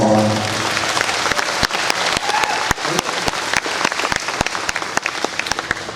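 Sparse applause from a small audience welcoming a singer at a harvest luncheon, individual claps sharp and distinct over a murmuring room, building slightly then thinning.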